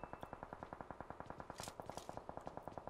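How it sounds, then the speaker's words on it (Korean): Rapid automatic gunfire in the mobile battle royale game PUBG Mobile, a fast steady stream of evenly spaced shots firing continuously at moderate distance with no talk over it. "또 총소리야, 총소리"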